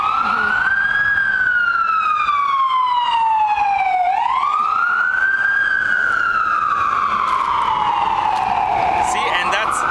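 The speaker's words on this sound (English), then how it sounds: "I didn't actually say anything during the siren." A loud wailing siren sweeps slowly up and down in long rising and falling cycles, close and dominant throughout, with faint traffic-like rumble beneath and no clear talk over it.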